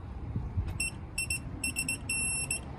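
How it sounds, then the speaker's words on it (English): A torque wrench tightening brake parts to 80 foot-pounds gives short high-pitched electronic beeps in quick bursts, starting as a few separate chirps and ending in a longer sustained tone, over low background noise. "So that beep indicates that it's at 80 foot-pounds."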